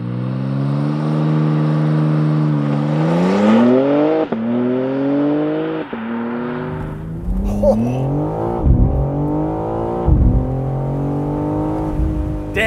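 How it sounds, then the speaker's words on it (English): A 2025 BMW M4 Competition Cabriolet with a twin-turbo 3-liter engine launches hard under launch control, revving loudly through several rising gear pulls with brief shift breaks, heard from close by. "2025 BMW M4 Competition Cabriolet with launch control."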